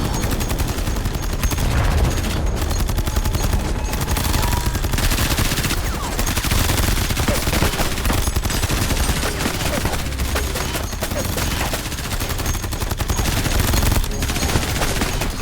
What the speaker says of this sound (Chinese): 没想到火力这么猛